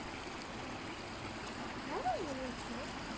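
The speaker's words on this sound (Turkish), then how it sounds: "Şu suyun şırıltısını bir daha dinleyelim mi minik dereciğin?" A small stream at the entrance to the Sarot valley babbles softly and steadily, a faint continuous trickle of water with a brief voice rising over it partway through.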